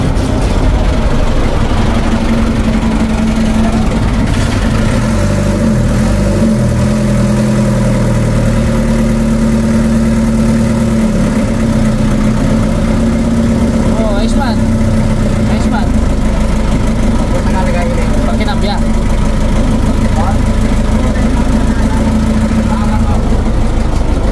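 A boat engine runs steadily after being restarted at sea in the West Philippine Sea, a loud, constant mid-low drone with a strong hum and some vibration, with no voices heard.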